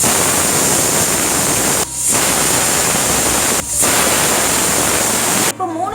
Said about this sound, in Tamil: விசில் வந்தாச்சு.